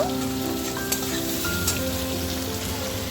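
Onions frying in oil in a pan for a low-spice chicken curry, a steady close hiss and crackle with occasional faint clinks, continuous throughout without speech.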